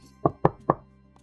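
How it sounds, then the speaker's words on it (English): Three quick, evenly spaced knocks on a door, close and fairly loud, with quiet room tone between them. "a knock on your door"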